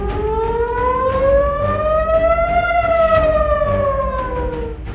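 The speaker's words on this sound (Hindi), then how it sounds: "क्या तेहरान में युद्ध का सायरन बजने वाला है?" A loud air raid siren wails alone, its tone slowly rising and then falling in one long continuous sweep.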